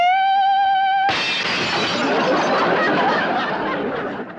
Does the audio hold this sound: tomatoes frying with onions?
no